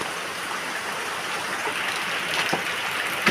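Steady rain during the rainy season pours down and collects in a container, a continuous dense hiss of falling water with a few faint drips, with no talking.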